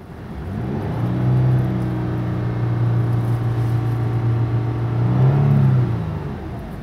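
A car engine revs up steadily, drops back, then surges again near the end, a loud continuous droning hum with no voices.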